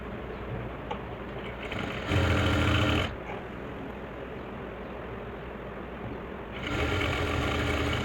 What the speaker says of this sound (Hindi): ऐसे ही सलवार के पूरे राउंड में बेल्ट को स्टिच कर देंगे